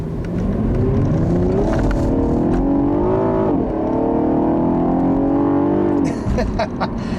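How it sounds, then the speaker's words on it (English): A 2015 Cadillac ATS Coupe 3.6 engine revs loudly and continuously, the pitch rising and falling as it accelerates toward redline, recorded close and dominating the scene. "I will never get tired of pushing this engine. It just makes such a great noise."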